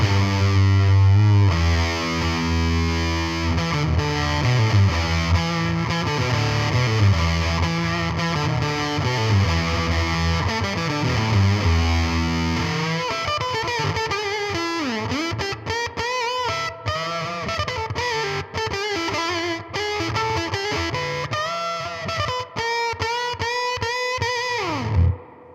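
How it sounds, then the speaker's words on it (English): Electric guitar on the bridge pickup through a Warm Audio Foxy Tone Box fuzz maxed out with the octave off, playing a steady, loud saturated riff of sustained distorted notes and bends throughout, with no voices. "So we're going to go back to the bridge pickup, fuzz maxed out. This is how it sounds."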